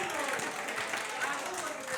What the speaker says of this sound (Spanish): A él el aplauso.